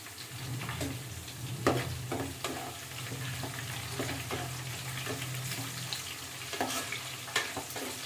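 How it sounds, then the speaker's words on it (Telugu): Green chillies frying in hot oil in a pan of wild boar meat gravy curry. A steady close sizzle runs throughout, with scattered sharp pops and spatters and occasional stirring clinks, and no voices. "లైట్గా వేగిన దాంట్లో పచ్చిమిరపకాయలు వేసుకుందాం"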